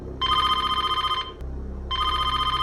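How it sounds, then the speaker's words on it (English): A telephone rings in two long electronic bursts separated by a short pause, loud and close, over a low background hum; no voices. "her phone rings, a blocked number"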